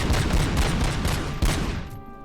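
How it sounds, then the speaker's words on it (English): Sustained rapid gunfire in RoboCop: Rogue City, a loud continuous volley of close shots that cuts off near the end, leaving a brief ringing tail. "Shooting directly at him successfully."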